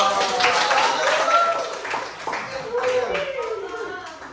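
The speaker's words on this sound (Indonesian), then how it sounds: "Oke, tepuk tangan." Brief scattered hand clapping from a small group in a music class, mixed with chatter and voices talking throughout.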